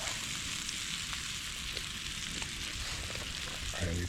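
Scottish ribeye steak sizzling on an outdoor gas stove, a dense, loud hiss of frying fat that holds steady from start to finish with a few faint crackles.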